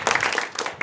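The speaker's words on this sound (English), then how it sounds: "One more round of applause." A brief burst of applause from a comedy show audience, many hands clapping together, loud and close.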